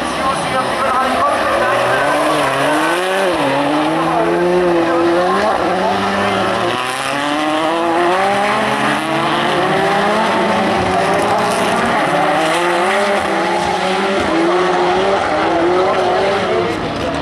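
Rallycross Supercar sliding through the second corner at Lohéac, engine howling with rising and falling revs and tire noise, loud and continuous beneath excited commentary.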